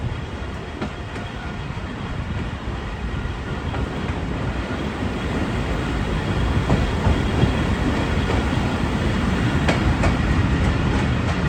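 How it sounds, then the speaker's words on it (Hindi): A night express train rolls through a lit railway station without stopping, a steady close rumble of wheels and carriages building slightly louder toward the end, with faint rhythmic clacking over the joints. "ट्रेन हमारी सन रेलवे स्टेशन में स्किप कर रही है"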